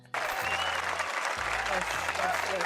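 A short burst of applause from a small group, steady clapping throughout, with voices talking over it.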